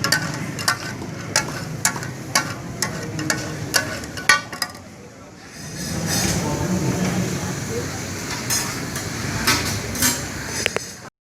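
Tawa chicken with cream sizzles and clatters on a hot griddle, with sharp scraping strikes of a spatula and then a steady frying hiss, under a voice talking.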